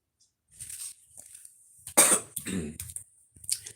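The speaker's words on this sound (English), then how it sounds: "Let me blow my nose." A few sharp, breathy bursts of nasal blowing, the loudest near the middle, with soft rustling in between; close and fairly quiet overall.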